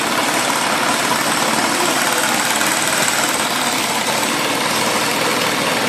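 A benchtop hybrid engine running at a 650 RPM set point makes a loud, steady mechanical drone with a fast buzzing vibration. It holds constant and close, with no voices.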